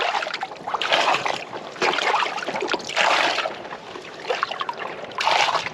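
A Pringles can scooping rainwater out of an anchored dinghy, with close, repeated splashy sloshes and pours in an uneven rhythm, each dip and dump of water standing out clearly and no talk.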